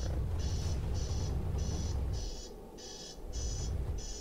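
In a PC video game, an alarm sounds as a loud, evenly spaced series of high electronic beeps, about seven pulses in steady rhythm over a low rumbling background hum.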